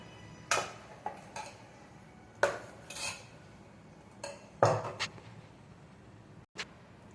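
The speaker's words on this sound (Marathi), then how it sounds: "हे असं एकसारखं आपण 1-2-3 मिनिटं हलवून घ्यायचं. एकाच दिशेने हलवायचं." Batter being stirred in a bowl in one direction, with a spoon or utensil knocking and scraping against the bowl in a few irregular clinks and brief bursts over a quiet background, no voices.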